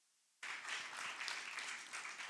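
A church congregation breaks into applause during a discipleship class, a dense, steady wash of many hands clapping that starts abruptly from near silence and holds at an even level to the end.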